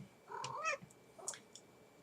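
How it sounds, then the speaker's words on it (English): A cat on a desk gives two short, quiet meows close by, the second one higher and thinner, against a faint room background. "Get off of my desk,"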